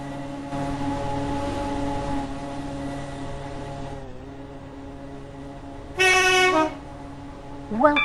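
A train in the Roblox Stepford County Railway game hums and rumbles steadily, then a loud horn blast sounds for under a second, followed by a short horn chirp at the end.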